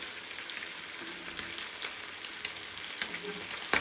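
Fish frying in hot oil in a Kerala-style home kitchen, a steady close sizzle and crackle with a few sharper pops and spatters, no voices.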